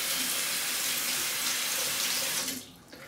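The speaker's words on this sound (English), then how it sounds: "I'm wetting the handle, rather wetting the knot here" Tap water running steadily and close to wet the knot of a synthetic shaving brush, a loud continuous splashing rush that cuts off near the end.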